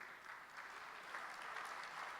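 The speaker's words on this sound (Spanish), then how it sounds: "Gracias por ese espontáneo aplauso" A church congregation breaks into spontaneous applause, a steady, moderately faint wash of clapping with no voices over it.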